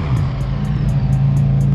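McLaren sports car engine giving a steady, loud, close low drone with a slight rising rev, with no voices over it.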